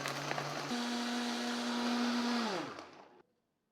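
A Vitamix blender whirs loudly at high speed through a protein frappuccino with dates, stepping up in pitch once early on, holding a steady roar, then winding down and stopping.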